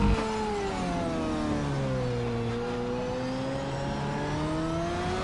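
A loud race car engine in the Project Cars 3 racing game, holding a sustained high rev with gliding pitch shifts through gear changes, harsh and close, with no talking.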